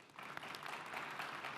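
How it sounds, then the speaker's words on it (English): An audience at the HITEX25 conference claps for a fireside chat guest, a brief, soft, steady round of applause heard from a distance. "I want a nice round of applause for our guest Kaiwan here today."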